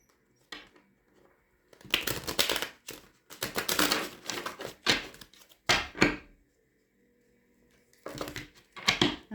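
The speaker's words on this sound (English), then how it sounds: "Get you some good shuffles in" Tarot cards shuffled by hand in several bursts of riffling and rustling, with short pauses between, close and fairly loud with no talking.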